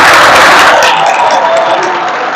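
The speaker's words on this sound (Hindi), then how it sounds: "एक बार अपने लिए जोरदार तालियां बजा दो।" Loud applause and cheering from a school audience in Rewari, Haryana, a dense wash of clapping that fills the clip, then thins slightly toward the end.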